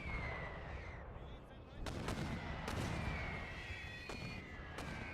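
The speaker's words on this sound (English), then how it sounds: "Looks like our mortars are being quite effective." Mortar fire in a Napoleon Total War WW1 battle, with several sharp booming blasts among a constant rumbling battlefield din and a few faint whistling tones.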